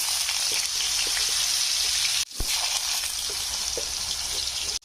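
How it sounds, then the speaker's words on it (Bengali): Potatoes fry in oil with a close, continuous hiss and fine crackling, briefly interrupted by a short gap before the sizzle resumes. "ওই তেলে আমি আলুগুলো ভেজে নেবো"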